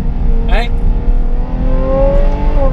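A Ferrari F12 Berlinetta V12 with an iPE exhaust revs and climbs in pitch, a strong exhaust note rising steadily under loud in-car rumble, with a brief voice early on.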